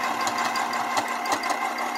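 A sewing machine runs steadily along the bottom seam of a fabric craft piece from the Pearl Elegance kit, a continuous mechanical hum with a quick, even stitching rattle, close and fairly loud with no talking.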